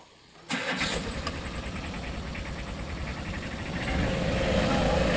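A car with a weak battery cranks and catches on the first try, then settles into a steady, loud idle that swells slightly toward the end, heard up close.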